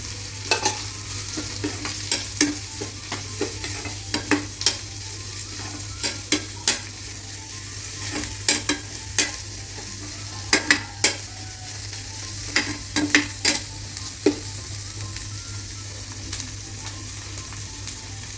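Curry leaves and coriander being stirred into paniyaram batter, a continuous wet mixing texture with scattered sharp clicks of the spoon against the bowl, close and fairly loud over a steady low hum.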